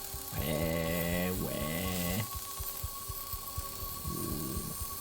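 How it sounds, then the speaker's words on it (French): A laser saw in the Detroit Become Human video game cuts a circle, giving two sustained, whining electronic tones over a low game hum. Soft rhythmic clicks and a quieter whine follow. "Prendre la scie laser."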